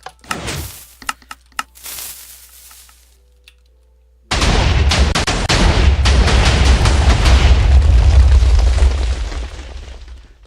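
A few sharp pops and cracks, a short quiet stretch, then a loud sudden blast from a Minecraft TNT cannon that rolls into a long, dense rumble of explosions.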